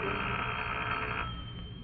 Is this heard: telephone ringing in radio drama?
yes